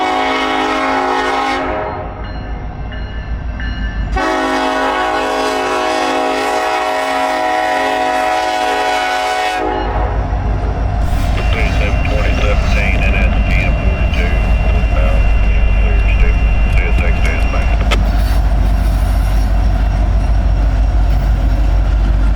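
A CSX Z720 freight train diverging onto Norfolk Southern tracks at Stevenson sounds long loud horn blasts, then its heavy rumble and rhythmic clattering wheels swell and continue close by.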